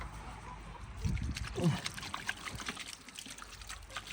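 Water trickles and splashes faintly as a cut of pork is rinsed under a running tap, with soft handling noises mixed in.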